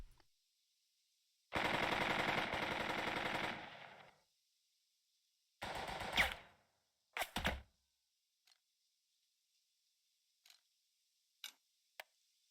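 Machine guns fire in the Burden of Command video game: a long sustained burst of rapid automatic fire, then two shorter bursts, followed by a few faint isolated shots, with no talking.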